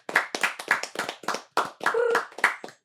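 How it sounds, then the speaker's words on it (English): Someone claps hard and close in a quick, uneven run of individual claps with brief gaps, likely a small group applauding a production crew at a podcast-style recording, with a short vocal whoop mixed in. "Can we do another round of applause for production?"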